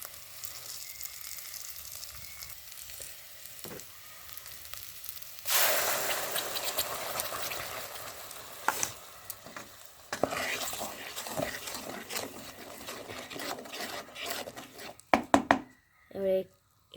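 A paste of cashew, poppy seed, mustard and green chilli hits hot oil for a Bengali bhetki dish, bursting into a loud bright sizzle that keeps crackling under stirring and utensil knocks, with someone talking throughout.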